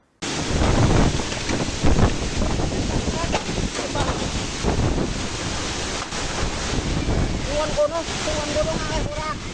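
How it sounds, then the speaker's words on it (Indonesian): Heavy rain driven by strong wind roars in a village, a loud, constant rushing gust-noise buffeting the microphone, with faint voices and a few rattling knocks in the background. "Salah satu warga berhasil merekam suasana mencekam saat terjadi hujan deras disertai angin kencang"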